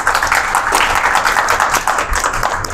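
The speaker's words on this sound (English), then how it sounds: "So round of applause to" Audience applause closing a talk-show segment, a dense, continuous patter of many hands clapping at close range throughout.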